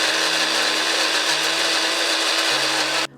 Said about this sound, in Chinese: 加水搅拌成泥